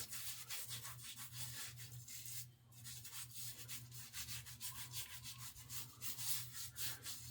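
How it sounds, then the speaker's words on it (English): Shaving product is rubbed into the skin like a pre-shave, a close, quiet, rhythmic scrubbing of short repeated strokes with a brief pause partway, and no speech. "I'm just going to rub this in."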